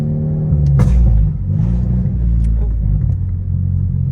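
A turbocharged car, freshly reassembled with new gaskets and head studs, revs hard while driving and struggles in second gear; a steady, loud engine drone with a rising rev near the start, with faint voices underneath.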